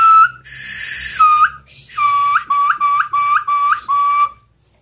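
A homemade call whistle imitating a red-legged tinamou sounds close and loud: a few sustained notes, then a run of about six short, rising whistled calls in a steady rhythm.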